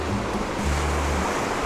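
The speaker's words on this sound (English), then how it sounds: "watching the waves." Ocean surf rolls and washes onto a beach in Portugal, a loud broad roar of breaking waves heard up close with no voices.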